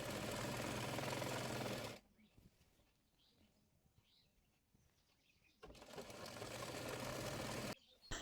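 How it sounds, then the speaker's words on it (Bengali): An electric sewing machine stitches palazzo trousers in two loud, fast whirring runs, with a quieter stretch of fabric handling and faint rustling between them. "মুহুরির মাপ অনুযায়ী প্লাজোটি সেলাই করে নেব।"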